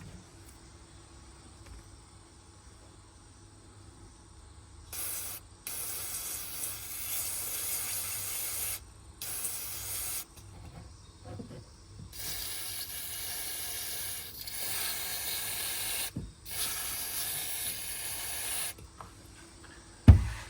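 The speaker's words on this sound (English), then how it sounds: "You unplug them and you spray some contact clean inside them thoroughly." Several hissing bursts from an aerosol can of contact cleaner sprayed into the radio connectors of a BMW E39, each lasting a second or two, separated by short pauses over a quiet background.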